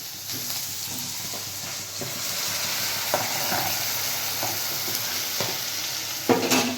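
Cooked rice for pulao being stirred and turned in a pan, soft scraping and shuffling over a continuous frying sizzle, close and fairly loud, ending in a louder clatter.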